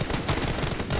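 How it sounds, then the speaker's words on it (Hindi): Rapid gunfire in the video game PUBG Mobile fires as a quick burst of several loud, close shots within a second, with no talk. "मैं फिर हेडशॉट मारता हूं,"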